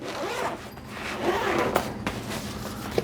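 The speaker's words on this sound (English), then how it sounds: "Got you a little carry handle here on the top, and it's a zipper." A zipper being drawn open on a plain black unbranded carrying case for a portable 40 amp EV charger, a steady close rasp running about three seconds with a couple of small catches near the end.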